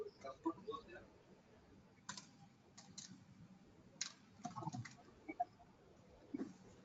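Typing on a computer keyboard: scattered, irregular key clicks and taps, quiet and close, in small bursts separated by pauses.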